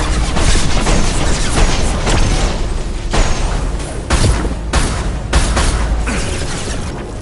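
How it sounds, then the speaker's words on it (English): Flashbang grenades going off in the video game Mass Effect 2, a dense, loud run of booming bursts and crashes over a constant roar of combat, with several sharp blasts standing out. "Watch out, flashbangs!"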